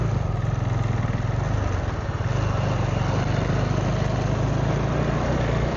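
A KTM 390 Adventure motorcycle rides along a road on a trip through Coorg, its single-cylinder engine droning steadily with a brief dip in pitch midway, close and loud with constant wind rush, no talk.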